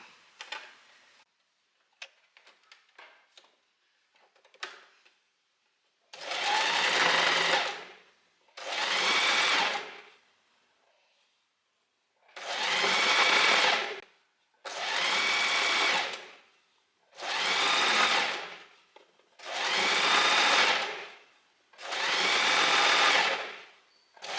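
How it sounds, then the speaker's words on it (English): Sewing machine stitching a folded, overlocked dress seam, a loud close mechanical whirr in several bursts of a few seconds each, separated by short pauses, after some faint handling clicks at the start, no talk. "we're just going to fold it inwards and we're going to sew all the way along"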